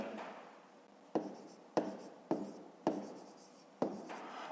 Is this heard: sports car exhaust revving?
no